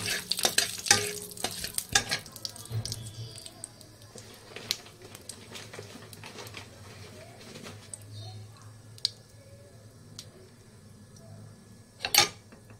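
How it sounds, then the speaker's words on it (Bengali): Nigella seeds and bay leaves sizzling in oil in a wok, with scattered crackles and clinks of stirring, fairly quiet, with a sharp clatter near the end. "কড়াইয়ে তেল নিয়ে সামান্য একটু কালো জিরে ফোড়ন দিয়ে দিলাম"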